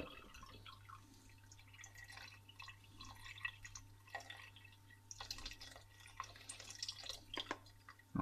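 Vegetable stock poured from a container into a pot of potato soup, a close, quiet liquid trickle with scattered drips and splashes and light clinks over a low steady hum.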